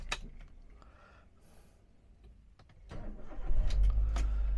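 A 2013 Toyota Avanza G with a manual gearbox starts after some faint clicks and rustling, with the engine cranking and catching near the end into a loud, steady idle.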